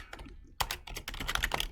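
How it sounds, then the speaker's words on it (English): Quick, uneven clicks of fingers typing on a computer keyboard, close and fairly quiet, with a short pause before a steady burst of keystrokes. "I'm typing and like I'm annotating"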